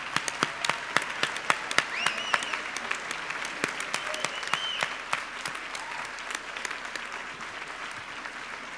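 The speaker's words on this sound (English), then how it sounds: "A tremendous round of applause." A university crowd applauds steadily at Hofstra's 2019 Celebration of Scholarly Excellence honors ceremony, many hands clapping at an even level with sharp individual claps standing out and a few voices faintly heard underneath.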